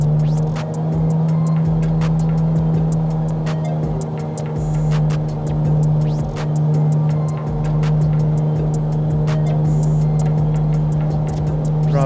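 The piston engine of a Carenado M20R Ovation in Microsoft Flight Simulator 2020 drones loudly and steadily as the throttle is pushed up, a strong low hum with a slight swell in pitch and no talk.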